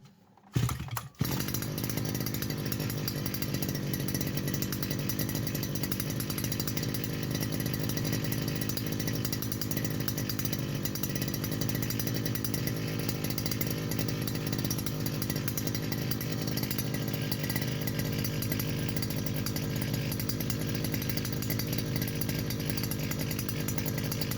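A STIHL FS120 petrol brushcutter starts after a brief silence, then idles steadily and loudly for over twenty seconds with a constant buzzing two-stroke drone and no speech.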